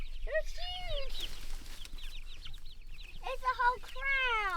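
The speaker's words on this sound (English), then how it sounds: "let the chickens calm back down a little bit" Young chicks in a coop give a continuous chorus of high, rising peeps and clucks, close and busy, with overlapping calls from a crowd of birds throughout.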